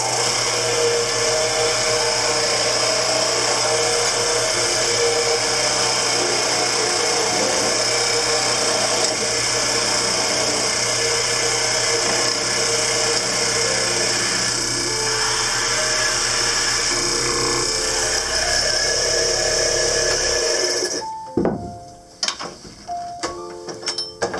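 A lathe runs steadily while a turned wooden bowl has its last nub cut away, a dense whirring tool noise that cuts out abruptly near the end, leaving a few scattered knocks and rattles.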